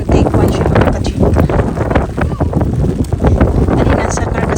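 Strong wind buffets the microphone outdoors in the UK, a loud continuous roar with gusting rumble that fills the whole stretch, and a voice can be heard talking beneath it.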